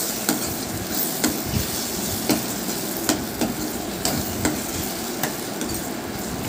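Salt being stirred into chopped tomato and onion pieces for a simple tomato curry, with a steady run of scraping, clinking stirs recurring roughly every second over a soft sizzling background, with no talk.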